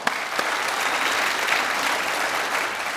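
A studio audience at a Kannada television game show breaks into loud, dense applause, a steady wash of many hands clapping close by with no talking over it.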